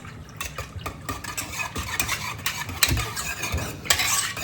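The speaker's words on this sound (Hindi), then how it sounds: "अब मैं इसको एक बार अच्छे से वो कर देती हूँ मिक्स ना।" Cumin seeds are stirred in a hot cooking pan, with repeated close scraping strokes over a light sizzle and no voices.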